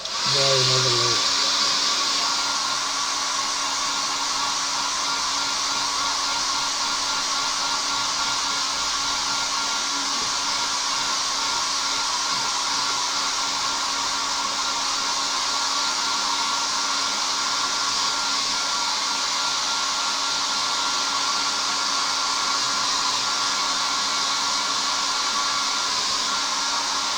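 A hair dryer runs steadily and loudly throughout, drying a paint layer on a 1/72 Zvezda Kamov Ka-50 scale model, a constant close whooshing hum with no breaks.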